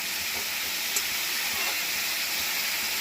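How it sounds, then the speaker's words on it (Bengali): Snake gourd frying in hot oil gives a dense, even hiss that stays loud and steady throughout the short stretch. "এবার সেটা খুব ভালো করে কিন্তু আমি ভেজে নেব, একদম লাল লাল করে ভাজা হবে"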